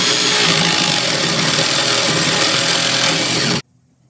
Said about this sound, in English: Next, I'll cut the pipe, which allows the top to flip.